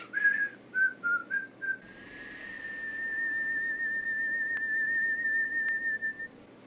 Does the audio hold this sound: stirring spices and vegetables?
no